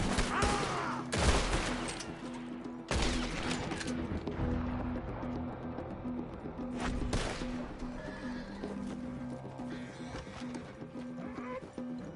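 Gunshots ring out in a burst in Red Dead Redemption II, while a horse neighs and hooves clop nearby amid a rough outdoor din.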